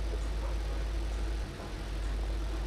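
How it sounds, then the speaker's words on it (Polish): A tractor engine in Farming Simulator 15 drones steadily with a deep low rumble and constant idle-like hum, briefly dipping midway before resuming. "Choć to świeży ciągnik jest normalnie, nówka sztuka z NRF-u."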